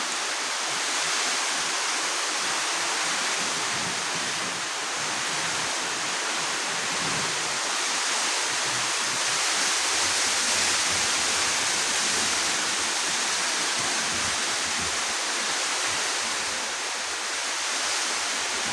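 Loud, continuous rushing floodwater from Typhoon Tino roars without pause as it flows into a home, a dense broadband wash like a strong flood current pouring nearby.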